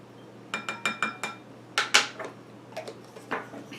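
A utensil clinks and scrapes against a bowl while pot sticker ingredients are mixed with rice vinegar, a run of sharp, close taps in quick bursts, then a few scattered ones, with no talking.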